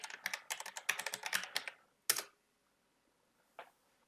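A password typed on a computer keyboard: a quick close run of crisp key clicks, then a single firm keystroke after a short pause and one last soft tap.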